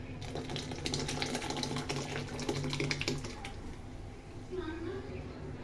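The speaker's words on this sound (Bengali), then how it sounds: "আমি এই স্যুপটা ঢেলে দিলাম এবং এটা এখন আমি একসঙ্গে মেশাবো" Soup pours into a pot of boiled sago for soup noodles, making a continuous splashing liquid rush that runs steadily, with a voice talking over it.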